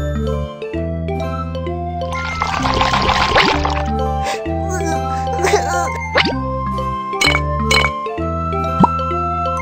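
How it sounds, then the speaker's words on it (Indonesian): Milk being poured into a bath in a BabyBus children's spa game, heard as a bright splashy pour with bubbly plops and tinkling chimes over steady game music. "Coba tuangkan susu ke dalam air."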